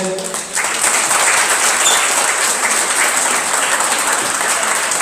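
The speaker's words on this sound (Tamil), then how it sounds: "அவங்களுக்கு மிகப்பெரிய ஒரு பாராட்டு தெரிவிங்க" An audience at a student felicitation ceremony applauds steadily, a dense, even wash of clapping that holds at close range for the whole stretch with no voices standing out.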